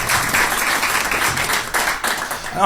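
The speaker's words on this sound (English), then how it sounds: "Give her a round of applause." Studio audience applause at an XM Radio studio in Washington DC, a dense, steady wash of clapping that stays loud throughout, with a brief voice near the end.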